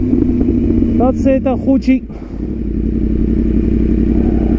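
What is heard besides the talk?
Yamaha R1 motorcycle engine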